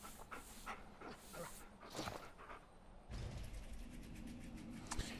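Dog from Far Cry Primal panting in quick, breathy bursts with a faint whimper, heard up close over a busy game background of rustling and ambient noise, with no talking.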